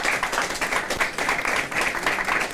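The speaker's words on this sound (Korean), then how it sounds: "다시 한번 박수 쳐주십시오" Applause for a student with a perfect score on the Korean college entrance exam: a roomful of people clapping steadily and densely throughout, close and fairly loud.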